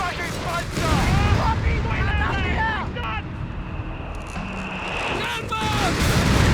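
Mortar shells and battlefield gunfire rumble in Company of Heroes 3, a World War II strategy game, with a heavy boom beneath shouted voices and radio chatter, and further blasts and whines toward the end.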